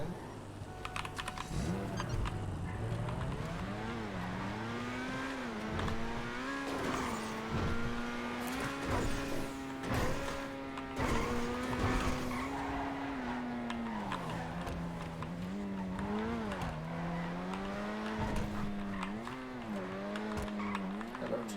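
A car drives and skids in the GTA V roleplay game, with a continuous engine tone rising and falling and bursts of tire noise, steady and close throughout with no talk.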